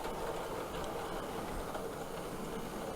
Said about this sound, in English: here we have a modified Bachmann 4F, one with a Midland tender, on a 4-coach train